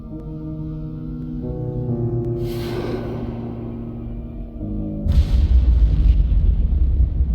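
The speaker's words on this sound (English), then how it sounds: "Was that explosion?" An explosion in the video game Assassin's Creed Syndicate, where a steady droning, tonal game score is broken by a burst of noise and then a heavy, rumbling low boom that carries on loudly to the end.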